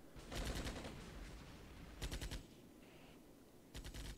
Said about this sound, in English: Alright, so they're shooting at this BTR. They're definitely getting hits on it. We're also shooting back.